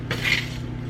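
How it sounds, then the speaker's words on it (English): A quick stir of roasted vegetables in a pan: one short, close scrape and clatter of a utensil against the pan, alone with no talk. "These roasted veggies. Give them a quick little stir."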